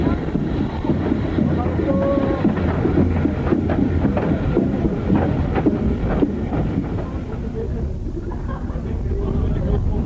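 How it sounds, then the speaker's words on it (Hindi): A steam locomotive train runs through the tribal area of Pakistan, its steady, loud rumble and rolling wheel clatter filling the whole stretch continuously at close range. "स्टीम इंजन को आयरन हॉर्स भी कहते हैं।"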